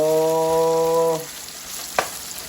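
Tomatoes and squid stir-fry in a pan with a loud, close sizzle and a single brief scrape of stirring, partly covered at the start by a steady electronic hum that then stops.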